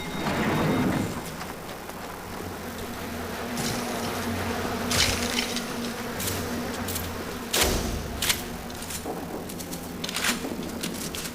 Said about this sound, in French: Le coup des abeilles j'aime pas ça.